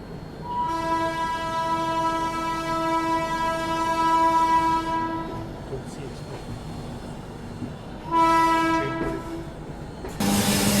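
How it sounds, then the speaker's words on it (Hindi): Purushottam Express arriving at Prayagraj Junction station, a loud sustained multi-tone horn blast, then rumbling rail noise, then a second horn burst and another start at the end. "और इस तरफ बिल्कुल पैरेलल में अराइवल हो रहा है पुरुषोत्तम एक्सप्रेस का"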